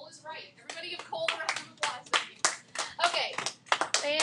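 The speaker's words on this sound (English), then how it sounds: "Everybody give Cole a round of applause." Students in an algebra classroom clap for a classmate, a modest, uneven round of hand claps with distinct individual slaps, mixed with a few young voices.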